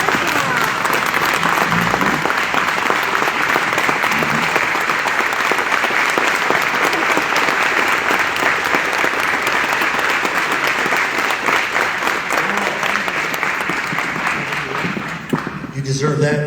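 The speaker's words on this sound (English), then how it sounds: "Please join me in a huge round of applause for Cecilia Marie, please." A banquet audience breaks into a sustained, loud round of applause that fills the room for many seconds before thinning out, with a few voices surfacing near the end.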